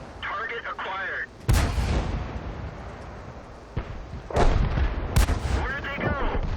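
Booming tank cannon shots in World of Tanks, two or three heavy blasts with long rumbling tails, close and loud, between short stretches of game voice announcements.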